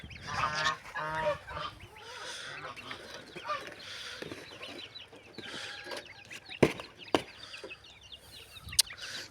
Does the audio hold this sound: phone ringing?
no